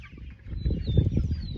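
Broiler chickens being unpacked into a pasture hoop-style tractor flap their wings in quick bursts alongside soft clucking, fairly close, with a faint high tone running in the background.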